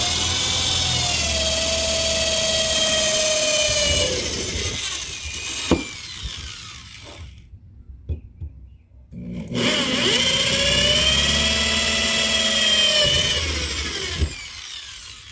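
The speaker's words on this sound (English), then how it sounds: "I actually use a corded drill sometimes for certain things." A corded electric drill whines steadily for several seconds, stops briefly with a few clunks, then spins up again in a second long, close run.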